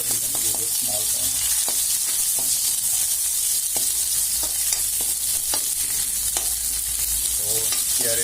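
Half-sliced chopped onions frying in a pan for a bitter gourd fry, a constant close sizzle with scattered stirring scrapes and clicks, no voice.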